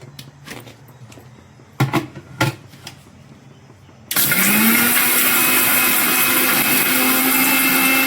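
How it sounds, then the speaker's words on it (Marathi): A kitchen mixer grinder grinds roasted spices for a Kolhapur-style mutton curry. A few soft handling knocks come first, then the motor kicks on abruptly and whirs loud and steady to the end. "ते आता आपण मिक्सर मधून वाटून घेऊया"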